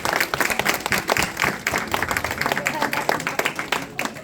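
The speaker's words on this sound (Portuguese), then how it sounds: "Aplauda os Filipes no meio de nós. Aplauda, aplauda." Church congregation applauding during a Portuguese-language sermon, dense steady clapping from a crowd filling the room throughout, with no voice over it.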